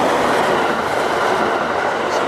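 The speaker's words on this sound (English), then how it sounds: "Oh, it's another limited express train." A limited express train rushes past at close range at a Japanese station, a loud continuous roar of wheels and rushing air that fills the whole moment.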